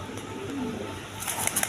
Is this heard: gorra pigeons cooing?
yes